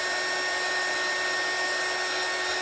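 A heat gun blowing hot air to shrink heat-shrink tubing during a solder-free wire repair on a CR10s 3D printer, a loud, constant hairdryer-like whoosh with no pauses.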